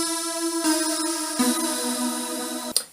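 A lush, sustained Galactic Layers synth pad preset holds bright layered chords at 120 BPM that shift twice, shimmering steadily before a short sharp accent near the end.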